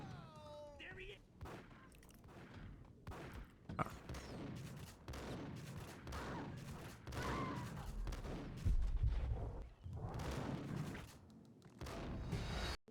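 A video game shootout with scattered gunshots and booms mixed in with talking and background game sound, and a heavier, louder burst near the end.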